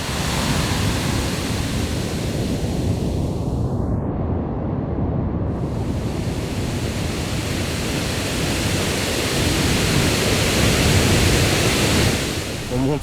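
Tall urban waterfall near Montreal, roughly 25 metres high, pouring in a dense, loud, unbroken roar that fills the air like heavy surf, steady throughout with no voices on top.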